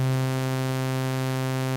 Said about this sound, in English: I will now morph this waveform from being a sine wave to being a sawtooth waveform